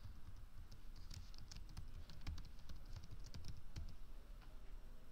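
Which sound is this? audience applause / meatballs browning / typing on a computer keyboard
typing on a computer keyboard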